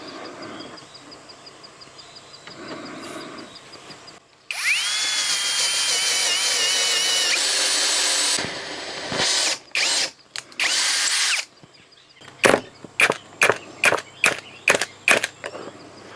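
A power drill drives screws into a pocket-hole wood joint during a camper van washroom build, with a long loud whirring run, then shorter bursts and a rapid string of brief close pulses.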